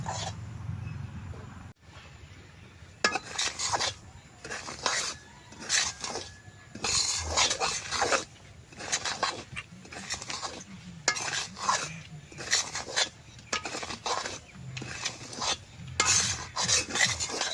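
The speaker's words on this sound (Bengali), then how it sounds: "আমি ঘি ছাড়াই ভাইজা নেব" Semolina is dry-roasted without ghee in a pan for mango laddoos, stirred with a steady rhythm of gritty scraping strokes roughly twice a second against a faint sizzle, close and fairly quiet.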